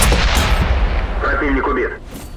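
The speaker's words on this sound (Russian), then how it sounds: "Критическое попадание." A tank shell lands a critical hit in World of Tanks with the Black Prince, a loud booming impact and rumble that fills the clip, while a voice speaks over the end.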